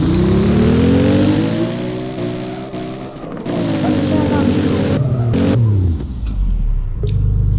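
A 1992 Toyota Supra Turbo engine in a Roblox Driving Empire car game revs loud and close with rising and falling pitch and gear shifts, with a voice talking over it.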